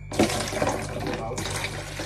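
Tap water runs steadily into a flower vase, a close, continuous splashing fill that holds throughout and briefly thins toward the end.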